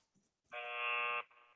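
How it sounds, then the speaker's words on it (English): A quiz-game buzzer during a trivia contest, a single electronic tone lasting under a second, sharp and steady, cutting off abruptly with a faint tail after near silence. "a fast buzzer"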